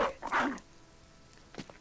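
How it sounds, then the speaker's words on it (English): Dog in the Battle Brothers video game gives a quick burst of barks, then a short yip after a pause, close and fairly loud over quiet background. "They're routing, so I can just let the dog loose."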